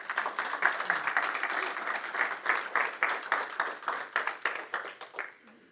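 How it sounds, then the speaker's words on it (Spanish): A church congregation claps together in a quick, rhythmic beat, loud and sustained for several seconds before thinning out and tapering off at the end. "Dile un aplauso a ese Dios bueno."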